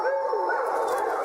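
Several dogs yelping, whining and barking together in an excited, overlapping chorus, fairly close and steady throughout with no talk over them.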